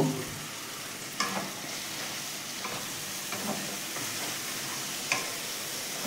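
Spice masala with diluted sour yogurt being sautéed in a pan for a vegetarian capsicum paneer dish, a steady close sizzle with occasional scraping stirs of a spoon against the pan, no talking.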